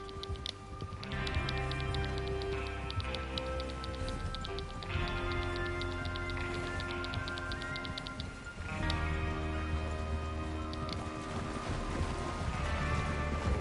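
In the video game Red Dead Redemption 2, rhythmic clip-clop hoofbeats of several galloping horses pound along steadily, mixed with a sustained orchestral music bed, moderately quiet and continuous.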